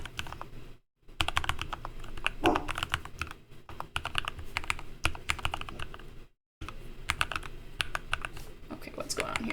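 A Panda41 mechanical keyboard with NP profile Panda keycaps is typed on in fast, dense bursts of close clacking keystrokes, broken by two brief pauses, with a faint voice in the background.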